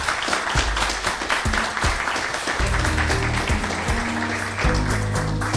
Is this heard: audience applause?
yes